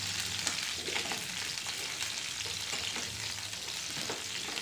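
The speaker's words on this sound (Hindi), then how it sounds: "जलपाई ऐड करने के बाद अच्छे से चलाना है, तेल के साथ अच्छे से मिलाना है।" Indian olives for jalpai pickle sizzling in hot oil, a constant crackling fry close by with faint scrapes of stirring mixed in.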